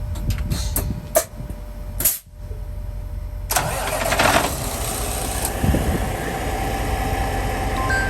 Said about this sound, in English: It's gonna start the truck right now.